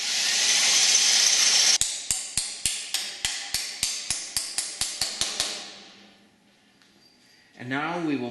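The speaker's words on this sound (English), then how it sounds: "After drilling a pilot hole, then I go for the full 1/4 inch." A drill boring a 1/4 inch hole in an aircraft wing spar for an Affordaplane homebuilt plane: a loud, high whir, then a quick series of evenly spaced sharp clicks, a quiet pause, and a rising, wavering whine as it restarts.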